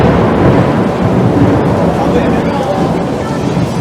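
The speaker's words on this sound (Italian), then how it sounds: "Il temporale si avvicina." Thunder from an approaching thunderstorm rolls as a loud, steady, broadband rumble throughout, with little break in its roar and voices faintly present beneath it.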